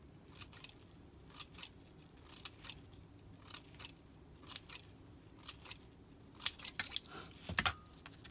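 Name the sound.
scissors snipping tissue paper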